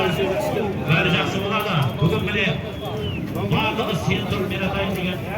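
Horses galloping in a five-lap Kazakh wedding baige race pound out a fast, rhythmic clatter of hooves while a commentator talks loudly and excitedly over them.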